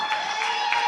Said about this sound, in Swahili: Chapa makofi. Chapia Bwana makofi.